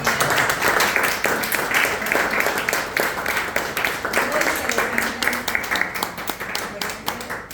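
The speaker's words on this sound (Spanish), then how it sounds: "vamos a darle un fuerte aplauso al doctor" An audience applauds a doctor after a talk at a meeting, with steady, dense clapping from a crowd running throughout at moderate loudness and no speech over it.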